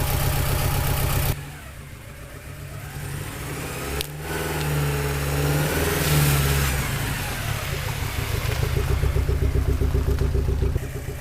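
The engine of a 1983 Porsche 944 Turbo runs and revs nearby, dipping to a quieter idle, then swelling through several throttle blips and settling into a rough, pulsing idle, with no voices.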